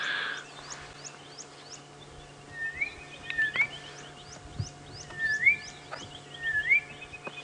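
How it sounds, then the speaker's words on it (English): Assorted bird calls ring out beside the Mwatsi (Moati) River on an early-morning safari drive, short chirps and whistled phrases repeating over a steady low hum and distant background, no voices. "Oh, and the lovely bird calls on the edge of the Moati River."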